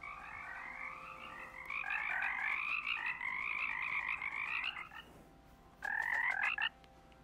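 Toads in the WorldBox video game croak in a continuous run of rattling, trilling calls, then break off briefly and return for one short burst, moderately loud with no voices.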